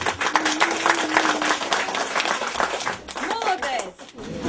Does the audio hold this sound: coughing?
no